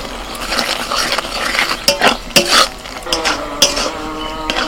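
Beaten yogurt hits a pan of frying chole masala with a little oil, a soft sizzle under busy stirring, with spoon scrapes and clanks against the pan, close and fairly loud, without talk.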